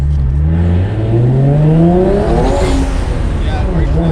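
Single-turbo Nissan 350Z with an HR engine revving hard, the pitch sweeping upward in a strong climb and then a brief turbo flutter and whoosh as the throttle lifts, loud and close, with a voice speaking over it.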